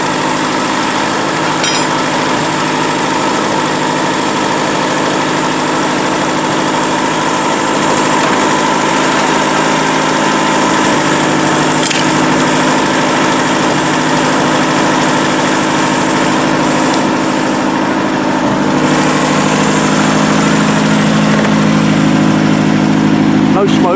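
An old BSA sports trike engine, unused for over 30 years, runs steadily at a loud, close idle with constant mechanical drone throughout.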